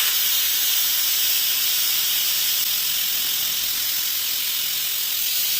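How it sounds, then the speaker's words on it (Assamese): Steady loud hiss of steam escaping through a pressure cooker whistle while khichdi cooks with vegetables, a continuous broadband rush that holds without pause from start to finish. "কুকাৰে হুইচেল মাৰবা খুজিছে"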